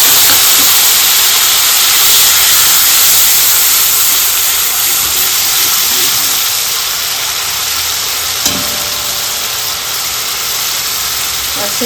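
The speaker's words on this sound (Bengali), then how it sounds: "ওই মাছ ভাজা তেলে ওই মশলাটা দিয়ে দিব" Spice paste frying in oil used earlier for frying rupchanda fish, an unbroken loud sizzling hiss that eases slightly toward the end, with one faint clink and no voices.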